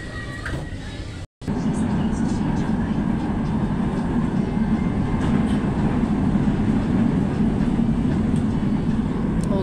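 Manila LRT train running between stations near Tayuman, a steady loud rumble of wheels on rail and car rattle inside the carriage, with a brief dropout early on and voices faintly underneath.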